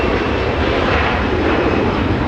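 Cathay Pacific Boeing 777 airliner at Los Angeles International Airport, a continuous broad engine roar, steady and moderately loud, with no voices.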